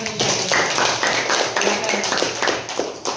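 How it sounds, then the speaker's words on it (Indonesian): A group claps steadily and briskly, a dense patter of hands that carries on without a break at moderate loudness. "tepuk tangan untuk Ananda"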